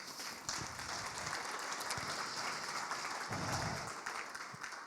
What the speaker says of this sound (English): So I would like all of us to give a warm applause to Jonah and the whole team for organizing t